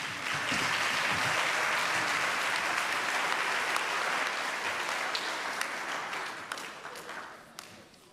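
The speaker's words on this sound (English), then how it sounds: "let's have a round of applause for our 6th graders" Audience at a school academic bowl applauds 6th graders, a dense sustained wash of many hands clapping that holds steady, then thins and tapers off toward the end.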